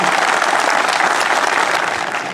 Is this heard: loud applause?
yes